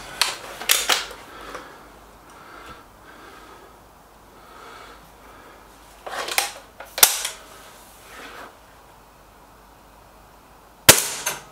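Two suppressed air rifles, an SMK XS36 and a Stoeger RX20, fire at targets, giving sharp, close pops spread across a quiet stretch, with soft breathing or movement heard between the shots.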